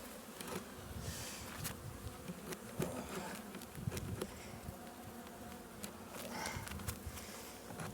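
A dense, close buzzing of many honey bees around an open hive in spring fills the air continuously, with occasional faint taps and rustles mixed in.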